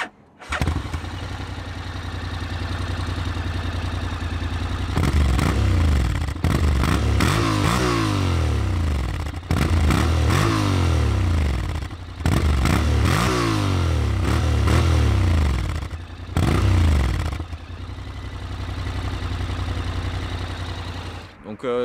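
A Honda Forza 750 scooter engine revs repeatedly, rising and falling in pitch through several loud throttle blips, with short idle gaps between bursts.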